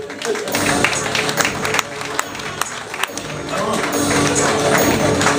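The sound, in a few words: audience applause for comedian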